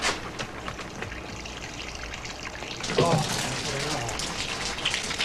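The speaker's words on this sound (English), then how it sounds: "The water will not stop running." Water gushes nonstop from faulty bathroom plumbing as a steady, close hiss like heavy spray, with a brief voice breaking in partway through.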